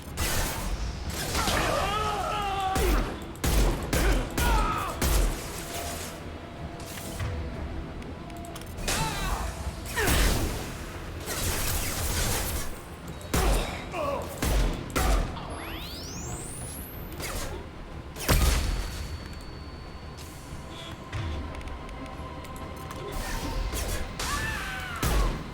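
Gunfire in the sci-fi shooter Mass Effect 2 comes as sharp, repeated bursts of shots, mixed with mechanical clanks, whooshes and one rising whine, all loud and busy with occasional voices underneath.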